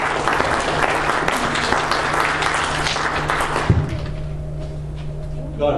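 A church congregation claps together at a Christmas service, a loud sustained burst of applause that fades away toward the end, with a thud near the close and some voices mixed in.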